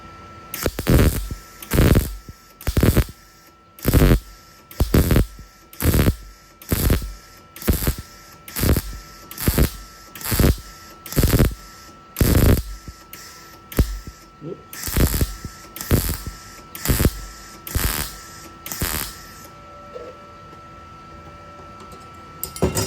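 An ARCCAPTAIN MIG 200 welder laying weld beads, about twenty short bursts of buzzing, crackling arc noise in a steady on-off rhythm, fairly close, with a faint hum in the pauses.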